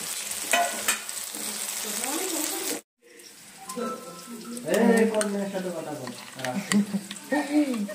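Tomato frying in a pan for Bengali mutton kosha, a close crackling sizzle with scraping stirs that cuts out briefly, then returns with busier stirring and spitting.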